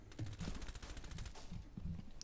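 Gunfire in the tactical shooter game Rainbow Six Siege, a rapid burst of automatic shots in quick succession lasting about two seconds, loud and dense in game audio with no talking over it.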